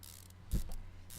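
Short burst of mechanical ratcheting as bolts are tightened on a car in Car Mechanic Simulator 2015, a brief clicky rattle lasting well under a second, faint and alone.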